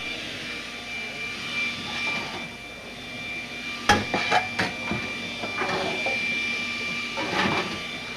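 Frying pans and cookware clanking at a chefs' demonstration tent at the Salcombe Crabfest, a few sharp metallic knocks in quick succession over a steady background hum, then softer clatter.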